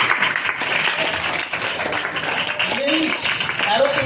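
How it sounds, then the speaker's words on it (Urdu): A church congregation claps together in sustained applause, a dense, steady wash of many hands that fills the room, with some talk or voices rising over it near the end. "آئیے ہم رول قدس کے لیے زوردار تالیاں بجائیں گے۔"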